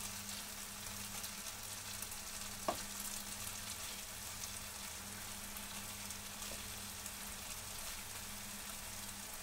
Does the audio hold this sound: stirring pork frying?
yes